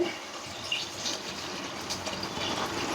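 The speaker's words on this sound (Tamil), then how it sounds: "ஃபில்ட்ரு பண்ணி சுத்தமாக புளி தண்ணி ஊற்றுறோம்" Filtered tamarind water is poured into an anchovy dried-fish curry, giving a steady, soft, continuous splashing pour at close range with no talking.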